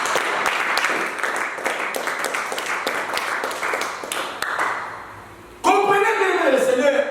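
A church congregation claps in a fast, steady rhythm of sharp, close hand claps for several seconds. The clapping then gives way to a louder voice.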